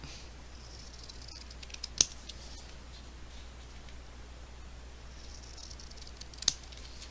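Scissors cutting craft paper, a few faint snips in a quiet room, with two sharper cuts standing out a few seconds apart.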